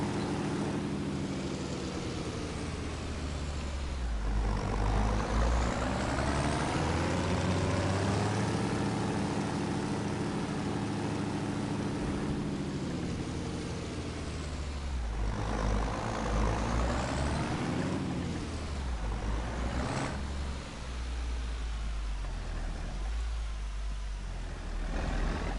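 Modded tractor engine in Farming Simulator 25 on PS5, a steady, loud low-pitched drone that runs the whole time, rising and falling in pitch as it revs and shifts, with no voices.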